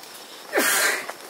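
A single sharp sneeze bursts out suddenly, fairly close, with a short breathy tail and a small sound just after.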